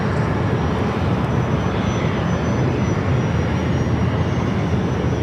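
Alaska Airlines jet airliner at Los Angeles International Airport, a loud steady engine roar that holds constant throughout with no talking.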